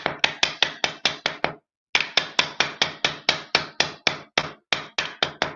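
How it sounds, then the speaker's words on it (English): Repeated hammer strikes on an object being scraped and straightened, sharp close blows in quick regular bursts with one short pause, no talking. "let me hit it with a hammer to scrape it a little bit"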